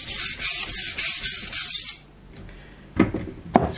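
A knife blade rubbed back and forth across a coarse 150-grit Naniwa whetstone gives steady, smooth rasping strokes in a regular rhythm, close and clear, then a quieter pause broken by two short scraping touches.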